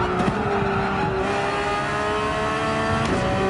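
A Porsche 911 GT3 engine held at full throttle in Gran Turismo 7, a loud steady high-revving whine with faint tire squeal, constant throughout with no talking.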